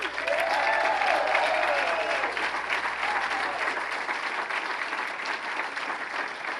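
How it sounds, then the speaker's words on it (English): Steady, dense applause from a large audience at a gala, sustained and even throughout without pause. "Please, a round of applause for Sarah Covener and Ann Hess."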